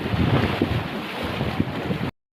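Strong sea waves wash around a boat off Calauag, Quezon Province, heard as a loud, continuous rush of water mixed with heavy wind buffeting the microphone, cutting off abruptly after about two seconds.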